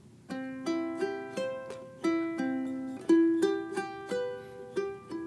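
A ukulele is played fingerstyle in even straight eighth notes, clear plucked notes ringing one after another at a steady pulse, close and solo with no talking.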